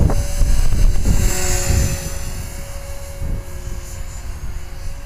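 A small 450-size radio-controlled helicopter motor whines loudly and steadily nearby, with the rotor drone dipping partway through as the pitch shifts while the motor loses power.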